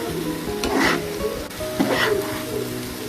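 Bitter gourd stir-frying in hot oil in a pan gives a steady close sizzle, with scraping stirs breaking through at intervals over the continuous frying hiss.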